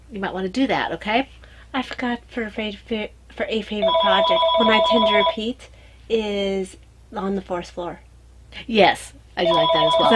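A landline telephone rings in a house, with two bursts of bright electronic trilling heard under someone talking steadily close to the microphone.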